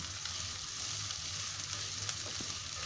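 Onion frying over a high gas flame, a faint, even sizzle with light crackles, steady and without talk.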